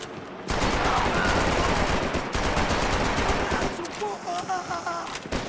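Sustained rapid automatic fire from an MP5 submachine gun in Max Payne 3, a loud dense rattle lasting several seconds with a short break, then easing into scattered shots and game effects, with speech underneath.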